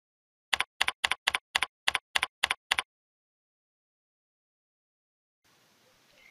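Nine quick keystrokes on a computer keyboard, evenly spaced and close, followed by silence and a faint rustle at the end.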